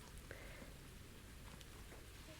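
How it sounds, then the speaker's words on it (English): Rain falling outside, a soft steady patter of drops heard faintly from indoors, very quiet and continuous with a few scattered sharper taps. "It is currently raining"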